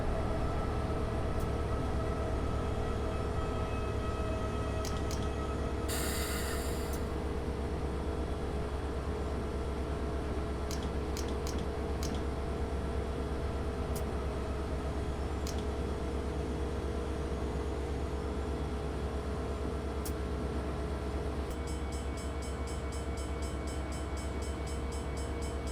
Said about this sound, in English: I'm now going to cut off the dynamic braking, and I'm also going to release the air braking and then just reapply it at a much lower setting